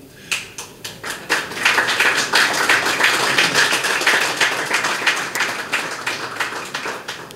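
An audience applauds after a speech at a cultural heritage event, dense overlapping clapping that builds quickly and holds steady, loud and continuous with no voices over it.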